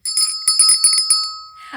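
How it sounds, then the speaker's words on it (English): A small handheld bell rings in a lively, clear series of quick dings at a comedy club show, bright and close, ending with a short murmur. "Is that the first time you've rung the bell on yourself?"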